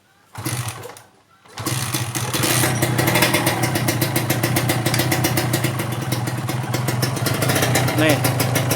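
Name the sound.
Kawasaki Ninja RR motorcycle engine idling, radiator fitted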